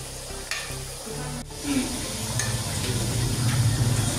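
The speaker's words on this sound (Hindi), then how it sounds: "और इसे हम जो है हाई फ्लेम पे फ्राई करेंगे।" Chicken frying on high flame in a karahi, a steady close sizzle with occasional stirring scrapes and a brief clatter near the start.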